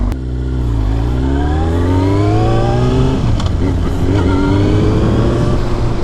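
Motorbike in the video game HyperBiker accelerating, a loud steady engine whine with harmonics that rise in pitch, drop briefly after three seconds, then climb again, continuous throughout with no talk.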